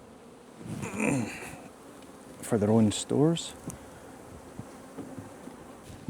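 Honey bees buzz steadily around a beehive, a soft continuous drone with a few louder close passes, while a person speaks briefly over it.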